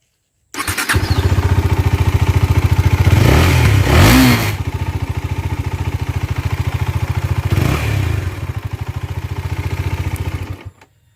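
A KTM Duke 250 motorcycle engine cranks and fires up, then settles into a steady, loud, close idle with a rapid chugging pulse, briefly blipping twice before cutting off.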